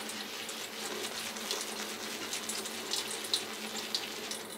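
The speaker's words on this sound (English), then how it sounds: "you just keep adding water as slowly as possible" Water runs from a tap in a steady, soft hiss, with a few small splashes and drips over the flow, added slowly to a shaving soap puck.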